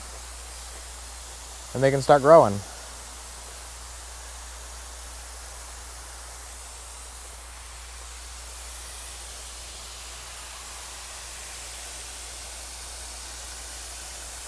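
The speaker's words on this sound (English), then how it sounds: "Now we'll water them in" Flats of seed trays filled with vermiculite being watered from a hose or can, a soft, even hiss of spray that runs steadily throughout, with a brief spoken remark near the start.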